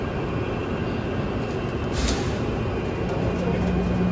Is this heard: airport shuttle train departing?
yes